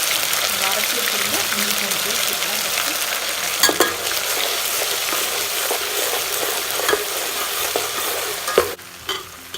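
Mint is stirred into a pan of sizzling ground biryani masala for Dindigul mutton biryani, a steady frying hiss with scraping stir strokes and a few sharp utensil clinks near the end.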